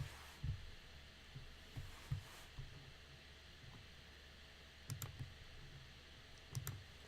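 Someone types on a computer keyboard with a few sparse, quiet keystrokes and soft clicks, spaced irregularly over a faint background hiss.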